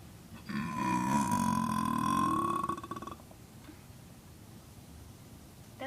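A long, loud, droning burp stretched out to imitate a cow's moo, close and sustained for about two and a half seconds before fading into quiet room noise.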